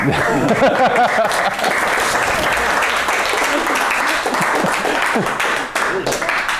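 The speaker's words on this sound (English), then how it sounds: "I'm gonna ask for everybody to clap for me" Audience applause fills a tech conference talk on higher order abstract syntax, a dense, loud wash of many hands clapping steadily throughout, with some voices and cheers mixed in.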